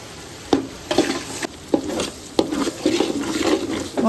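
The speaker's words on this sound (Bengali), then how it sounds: "এগুলো সব কিছু দেওয়ার পর মশলাটা খুব ভালো করে কষিয়ে নেবে।" Ground spices (chili, coriander and turmeric powder) sizzling in hot oil in a pan for bhuna khichuri, stirred with a spoon in repeated scraping strokes over a steady close frying hiss, no talk.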